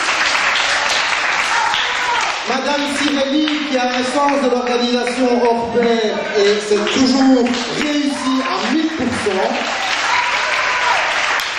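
Applause at a school open-day games event fills the background, steady and moderate, while someone speaks over it through a microphone almost throughout.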